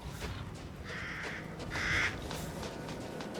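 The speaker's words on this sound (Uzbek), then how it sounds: "Xo'roz qarg'alar" Crows in a Resident Evil Village game scene give two short, harsh caws about a second apart, fairly faint over a murky ambient background.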